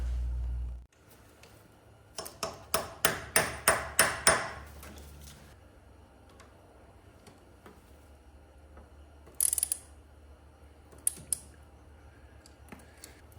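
About seven sharp metallic hammer blows strike a bolt extraction tool on a broken head bolt of an antique car at close range, followed by quiet and a couple of brief clinks and scrapes.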